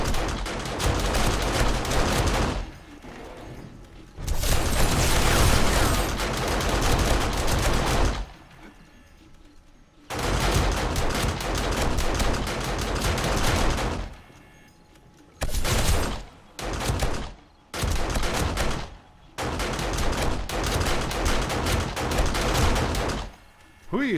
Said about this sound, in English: You're shooting down there.